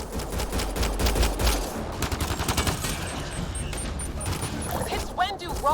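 Rapid bursts of gunfire in the video game Mass Effect Andromeda, loud and dense over a booming low rumble, with a voice speaking over the shooting.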